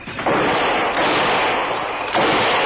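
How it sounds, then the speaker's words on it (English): A rifle shot in an old Western radio drama booms loud and close, with a sustained roaring blast and a second burst partway through. No voices are heard. "Hey, you're wasting bullets, Steve."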